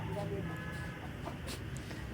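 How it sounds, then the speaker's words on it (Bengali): A small flock of five household chickens clucking softly in the background, faint and intermittent, under a person talking. "আমাদের বাড়ির মুরগি, কটা মুরগি? 5টা।"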